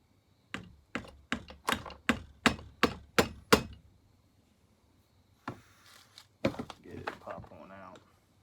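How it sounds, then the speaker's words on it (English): Eight sharp metallic taps of a hammer on a McCulloch Super Pro 80 chainsaw in a steady rhythm, close and fairly loud, then a pause followed by a few more clanks and rattling handling noises. "I'll take my little hammer, my big hammer."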